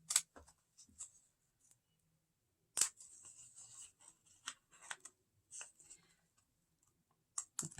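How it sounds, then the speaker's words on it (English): Sharp snips and clicks of scissors cutting out a paper-cutting pattern, close and fairly quiet, coming in irregular bursts with short pauses between cuts. "And continue to cut"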